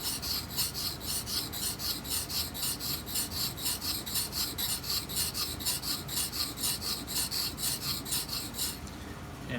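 A gouge rocked back and forth on a sharpening stone, a steady rhythmic rasping scrape repeating roughly three times a second, close and even, with no voices.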